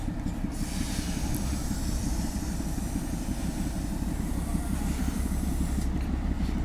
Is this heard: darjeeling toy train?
yes